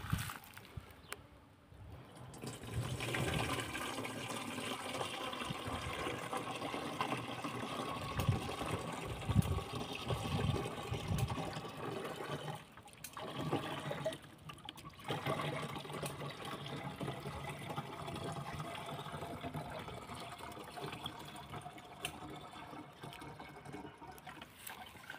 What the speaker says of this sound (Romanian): O voi strecura direct în pulverizator.